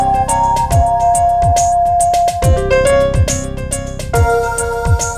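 Game soundtrack from a level of Gauntlet Dark Legacy, an upbeat loop with punchy drums, bright synth lines and steady rhythmic hits, playing loud and continuous without any talk.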